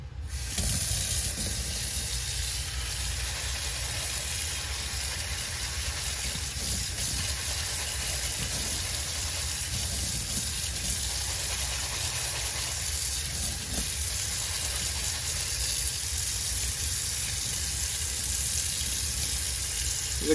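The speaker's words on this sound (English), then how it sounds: "Now rinse it off in warm water." Steady hiss of warm running water pouring continuously over air-gun slugs in a strainer, close and even, with no talking.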